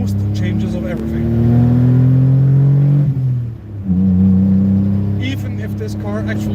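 A car with a modified exhaust revs hard and loud, rising to a sustained roar, dipping briefly, then climbing again with a rasping, booming tone, no talk over it.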